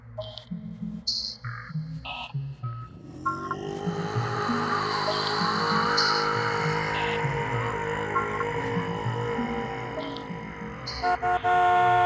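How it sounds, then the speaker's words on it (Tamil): Several short car horn toots sound at first, then a long continuous horn blast drones on for several seconds before more brief honks at the end. "என்னையா ஹார்ன் அடிக்கிறேன்னு கேட்கலையா?"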